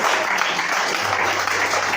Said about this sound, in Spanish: Suelte ese aplauso si puede delante de Dios